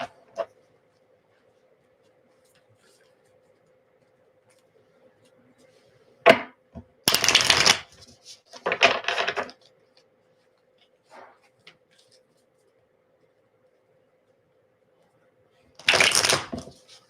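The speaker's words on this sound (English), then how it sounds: "Shuffle these cards here." Tarot cards being shuffled by hand in a few quick, crisp riffling bursts, close by, separated by quiet gaps, with one more burst near the end.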